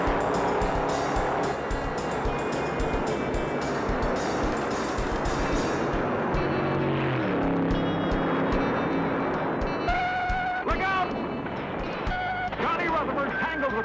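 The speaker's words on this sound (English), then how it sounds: "They're off and running again, and Petty is still charging." Stock race cars roar around the track at the 1964 Daytona 500, a dense continuous engine drone with passing cars and tire noise beneath steady commentary from an announcer.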